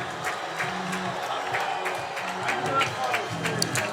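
Home crowd at a Crown Point high school football game against Andrean, a steady roar of cheering and shouting with scattered claps, sustained and fairly loud throughout, with voices mixed in.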